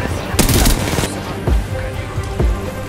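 Gunfire in Apex Legends: a dense burst of automatic shots early on, then a few separate loud, punchy bangs spaced about a second apart, under background game noise with some talking.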